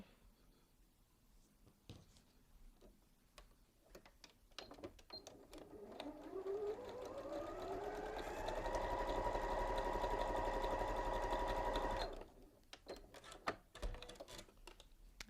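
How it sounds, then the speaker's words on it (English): A sewing machine stitching quilt pieces runs up to speed with a rising whir, holds a steady mechanical hum for several seconds, then stops abruptly, with quiet handling clicks before and after. "So there's one, and we're going to sew the other one."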